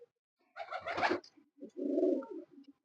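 A domestic pigeon coos softly up close, a burst of noisy rustling followed by a low, throaty rolling coo.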